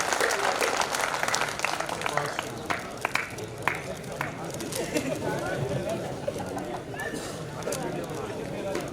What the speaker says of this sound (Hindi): जोरदार तालियों से भाई संपत सरल का स्वागत करें